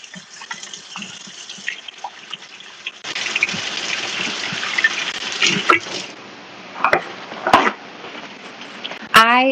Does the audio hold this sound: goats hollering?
no